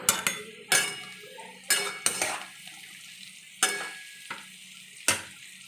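Raisins fry in a pan for fried rice, with a soft sizzle under repeated sharp clinks and scrapes of a spatula stirring against the metal, spaced irregularly throughout.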